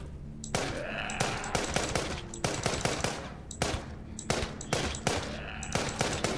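Sustained automatic gunfire in The Walking Zombie 2 shooter game, loud rapid bursts of shots repeating with brief gaps, close and dominant throughout.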